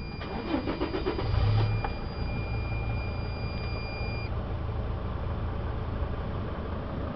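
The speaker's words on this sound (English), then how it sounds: "This vehicle starts right up." A 2002 Sprinter diesel high-top van, formerly a FedEx delivery vehicle with high mileage, cranks briefly and starts, then settles into a steady close idle with a dashboard chime ringing over it.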